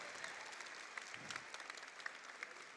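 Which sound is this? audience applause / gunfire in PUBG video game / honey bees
audience applause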